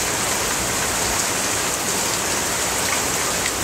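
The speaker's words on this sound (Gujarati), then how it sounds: "વરસાદ તો એક્સપેક્ટ બી નહીં કરેલો હતો" Heavy rain pours down steadily and close by, a dense, continuous hiss of drops drumming on surfaces with no voices and no pauses.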